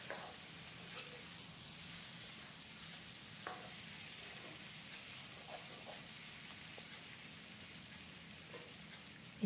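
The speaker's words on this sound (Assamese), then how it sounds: "আকৌ এবাৰ ভালকৈ মই লৰাই লৈছো" Food frying in a pan and stirred well before the lid goes on, a quiet continuous sizzle with occasional faint scrapes and clicks of the spoon.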